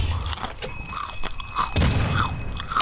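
Someone crunches chips close to a microphone, with several loud, sharp bites and chewing crunches in an irregular rhythm, heard alone without speech.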